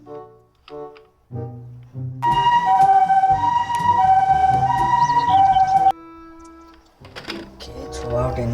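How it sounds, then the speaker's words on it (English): Police car siren, likely from a toy, wails loud and close for a few seconds with a steady rising and falling tone, while a voice talks before and after it. "This is police car."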